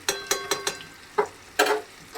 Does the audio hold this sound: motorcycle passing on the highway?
no